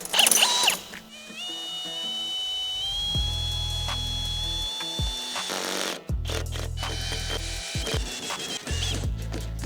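A Hilti SF4H cordless drill driver whirs up to a high, steady whine, stops, and starts again in several bursts across torque settings, with low thumping from the work underneath.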